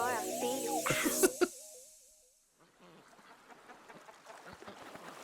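Cartoonish duck quacks in a K-pop music video play briefly over bright music, followed by an excited voice reacting after the music cuts out.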